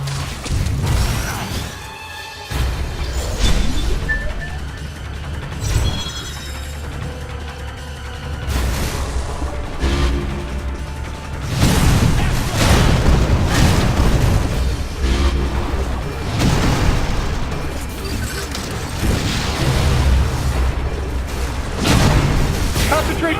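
Missile fire and explosions in the Metroid: Other M opening battle, heavy booms and bursts building in the second half, mixed with mechanical noise and shouted voices.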